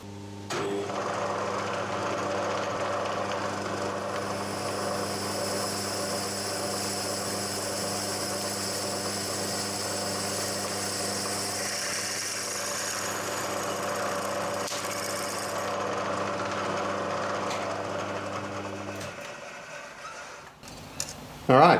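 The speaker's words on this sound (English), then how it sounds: "We're just going to start the drill bit on the flat surface of the stock." A drill runs continuously for about twenty seconds, boring an 11mm four-facet bit into steel stock with cutting oil; a steady motor drone with a grinding cutting texture stops abruptly near the end.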